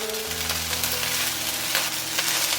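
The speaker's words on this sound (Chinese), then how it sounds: "把米饭呢完全炒到松散，炒热了之后把其他食材加进来" Seafood fried rice with seaweed is stir-fried in a wok, giving a steady, loud oily sizzle with soft scraping from a spatula and a faint low hum underneath, and no talking.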